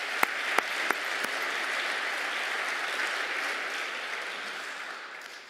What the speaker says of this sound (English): let us give a round of applause for the service of UMD vets over time